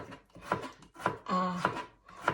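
Knife slicing cucumber on a cutting board for a Thai stir-fry with pork and egg, giving a steady rhythm of about five crisp, close chops spaced roughly half a second apart.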